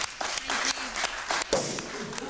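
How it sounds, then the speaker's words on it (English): A small group applauds at a celebration in a restored church building, with steady clapping that swells briefly and then carries on under light chatter. "I think a round of applause for that."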